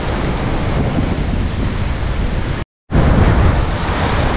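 Big waves crash and surge against rocks at a coastal spot, a loud continuous roar of surf and spray with wind buffeting the microphone, cut by a brief dropout.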